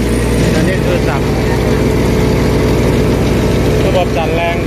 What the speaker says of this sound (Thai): ลองเปิดสั่นดูตัวนี้คือสั่น